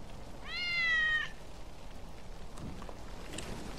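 A cat from Final Fantasy VII Remake, Wedge's pet, gives one clear, drawn-out meow up close, then only quiet ambient background remains.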